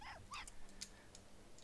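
A dog in the video game Hitman: Blood Money gives a few faint, brief whimpers and high yips in quick succession over a low background hum.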